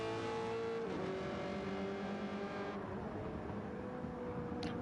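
Race car engine in an esports racing video game, a faint, steady high-pitched engine whine with shifting revs under a constant background, heard at a distance with no talk.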